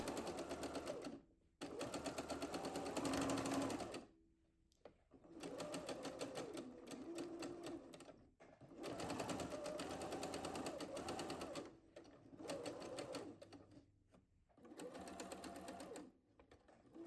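A sewing machine stitches fabric for a frock in repeated bursts of steady running, each lasting a few seconds and separated by brief pauses, close and fairly loud.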